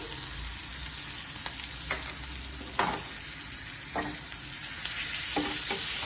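Asafoetida and green chili paste sizzle in hot oil on a low flame for a tempering, giving a steady crackling fry with a few sharper pops and stirring scrapes, close and fairly quiet with no talk.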